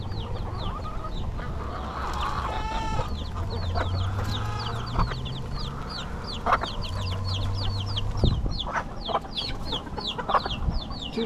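Chickens and small chicks cluck and peep steadily in an outdoor yard, with many short high chirps running throughout and a few louder clucks and squawks rising over a low background hum.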